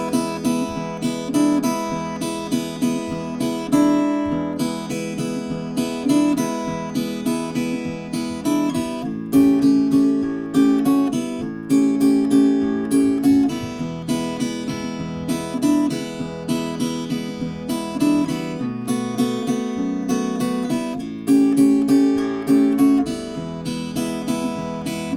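Delta blues guitar finger-picked with just the thumb and index finger, a driving groove of steady alternating bass notes under plucked treble lines, close and clear, played alone with no talking.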